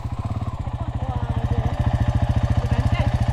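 Dirt bike engines idle close by, a KTM 500 and a Suzuki DRZ, with a steady rapid thumping pulse throughout that rises slightly in loudness, no voices over it.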